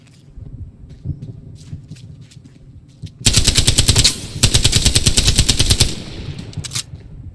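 Machine gun fire in Hell Let Loose, a video game, starting with faint footsteps and distant noise, then rapid loud bursts of automatic gunfire close by for several seconds before tapering off.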